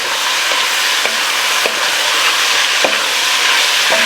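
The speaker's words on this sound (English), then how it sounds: "Brown this meat up. Get it nice and coated in all the bacon grease." Semi-cooked smoked meat browns in bacon grease, giving a loud, continuous sizzle broken by occasional sharp taps as a utensil stirs the pan.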